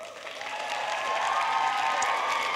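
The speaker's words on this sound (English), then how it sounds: "Thank you for clapping up there." Spectators in the mezzanine of a theatre at a show choir national competition clap from above, building from softer patter into a full, steady applause with faint cheering mixed in.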